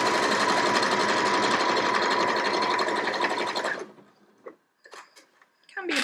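A sewing machine runs steadily and loudly while stitching a small fabric tube on a hoodie, then stops abruptly, leaving a few soft handling clicks and rustles.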